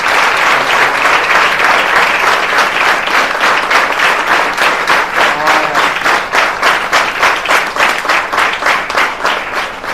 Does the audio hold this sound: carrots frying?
no